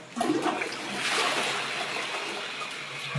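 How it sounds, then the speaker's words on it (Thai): A clogged household toilet flushed once, a steady rushing gush of water swirling close by for several seconds, with no talking. "ผมจะกดชักโครกนะฮะ"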